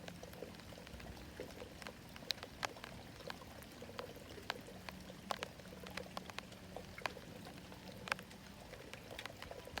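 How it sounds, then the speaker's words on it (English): Raindrops falling, heard as a steady light patter with scattered sharper drips and splashes against a soft continuous wash, fairly close and even throughout. "listening to the sound of raindrops fall"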